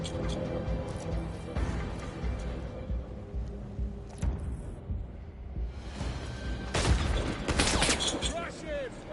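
Gunfire in the 007 First Light video game, scattered shots and bursts mixed with whooshes and mechanical clatter, with a louder flurry near the end, under a steady bed of game noise and speech.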